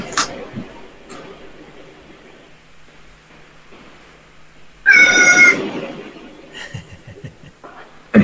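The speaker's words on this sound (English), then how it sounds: "My cat wants to chime in." A pet cat meows loudly and close by in one drawn-out cry midway through, with a shorter meow near the start and more brief calls at the end, set against a quiet room.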